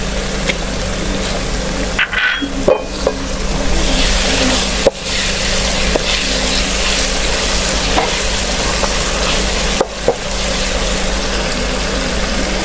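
Onion and tomato gravy for aloo chicken curry sizzles and fries steadily in a pan, a loud continuous hiss broken by scraping stirs and a few sharp clanks of the spoon, close up with no talking.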